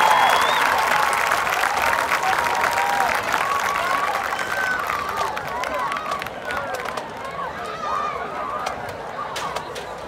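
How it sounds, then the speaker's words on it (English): Crowd applause for the Sequoyah High School Band of Chiefs at a school event, a broad steady clatter of clapping with birdlike whistles and chirps mixed in, slowly fading over the span. "Another round of applause for the Sequoyah High School Band of Chiefs."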